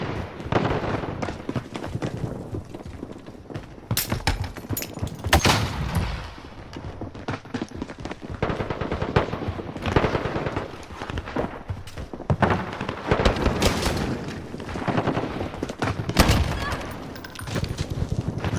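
Rapid bursts of SCAR rifle fire in Call of Duty: Modern Warfare, loud sharp volleys repeating through the stretch alongside game effects, with someone talking over parts of it.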